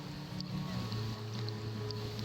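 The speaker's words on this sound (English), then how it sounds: "Now the waves turn a tide pool into a big bubbly jacuzzi." Ocean waves surge into a rocky tide pool, churning it into foamy bubbles with a steady close rush of water and a few brief splashy bursts.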